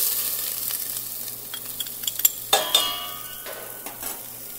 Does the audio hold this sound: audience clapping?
no